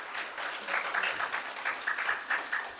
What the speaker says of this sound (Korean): 역시 먹는데 박수 소리가 제일 커